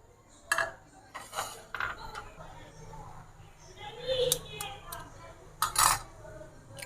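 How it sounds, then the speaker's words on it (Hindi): Eggs being cracked into a separate small bowl in a home kitchen while making potato donuts, giving a few sharp clinks and taps of shell against the bowl rim, with quiet talk in the background. "अब अंडे तोड़ लेते हैं।"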